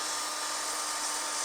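Old electric drill with a fitting cleaning the combustion chamber of an old Salmson cylinder head, a steady, close, high-pitched whine that holds the same pitch without pause.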